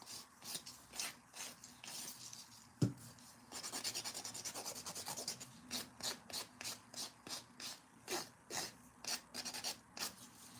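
A 100/180-grit buffing block rubbing back and forth on nails, close and faint, with a brief pause and then a quick regular rhythm of short scratchy strokes, no voices.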